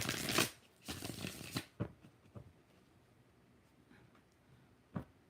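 Tarot cards being shuffled by hand, with several quick riffling bursts early on, then scattered softer card taps and one last flick, quiet and close in a calm room.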